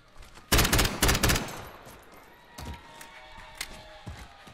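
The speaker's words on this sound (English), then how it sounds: "Got the SMGs out." SMG fire during a 2v2 Gunfight tournament match in Call of Duty: a loud, rapid rattling burst up front, then scattered fainter shots and taps further off as the action settles.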